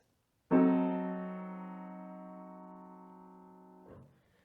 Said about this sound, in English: It's the diminished 7th chord,